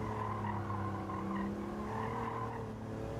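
Car tires squealing as the car slides in Gran Turismo 7, a steady drawn-out screech under a droning engine, continuous and moderately faint for a few seconds, with no one speaking.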